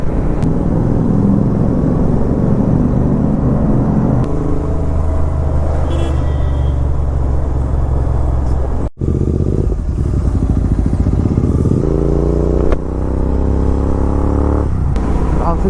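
A Yamaha R15 V2, a GT and a KTM Duke 200 riding together on an open highway toward Srisailam, engines droning loud and close with rising and falling revs and a steady rumbling roar throughout.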